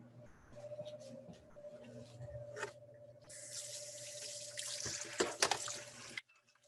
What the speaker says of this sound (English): I am going to wash my mixing bowl and I'll be right back.